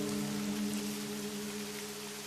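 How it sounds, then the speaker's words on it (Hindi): Steady, dense rain pours down continuously, a loud even hiss with no pauses. "बाहर झमझम बारिश हो रही है"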